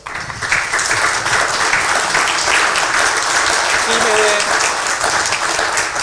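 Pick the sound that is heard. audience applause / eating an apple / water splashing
audience applause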